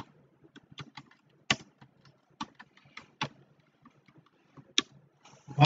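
Keys clatter on a computer keyboard while someone works through an MS SQL database tutorial: quiet, irregular keystrokes in short uneven bursts, with a few sharper clacks and no talking.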